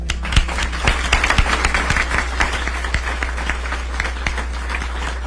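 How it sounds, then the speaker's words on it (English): Applause at a mayor's news conference for a veteran community leader, a steady patter of hand claps with sharp individual claps standing out over a constant low hum, moderately loud and without speech. "Please join me in giving a round of applause."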